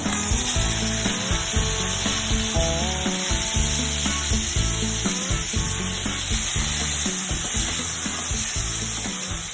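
Cleaned tiger prawns fry in oil in a pan, giving a steady, close sizzle with a scraping, rubbing clatter from stirring layered on top, continuous throughout with no voices.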